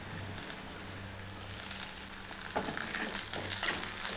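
Shallots sautéing in a pan for garlic pepper kuzhambu, giving a steady soft sizzle with occasional stirring scrapes that grow a little busier toward the end.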